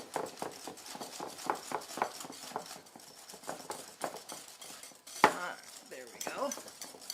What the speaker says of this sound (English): Just keep whisking and it'll loosen itself up.